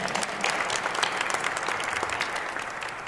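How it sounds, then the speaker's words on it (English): A crowd claps steadily in warm, continuous applause, dense and even throughout, with no speech over it. "Let's give Huntington and all of our partners another round of applause if we can."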